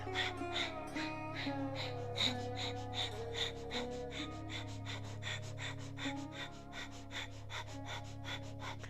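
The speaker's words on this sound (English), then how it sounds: "then you're going to activate breath of fire" Rapid, rhythmic breath-of-fire breathing during a yoga class: quick forceful nasal exhales pulse steadily, about three per second, close and continuous over a low background hum, with no speech.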